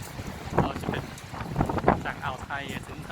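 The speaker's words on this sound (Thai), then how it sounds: "คลื่นแรงมากวันนี้คลื่น สุดยอดของคลื่นเลยครับลมก็แรงด้วย" Strong wind buffets the microphone on the Mediterranean shore at Alexandria, with heavy surf behind it. Gusty rumbling runs under someone talking close by.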